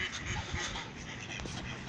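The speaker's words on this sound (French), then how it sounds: "Ici vous pouvez voir les colverts." Farmyard mallard ducks quacking in short overlapping bursts near the pen, with geese also kept close by, all mixed with steady outdoor background noise.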